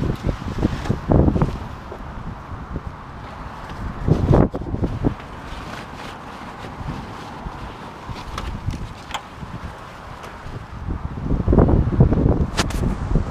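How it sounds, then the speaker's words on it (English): Gusty outdoor wind buffets the microphone in uneven surges, with louder blasts near the start, in the middle and toward the end, plus faint rustling beneath; a car cover strapped over an E39 BMW sits nearby. "the wind's half taken the cover off"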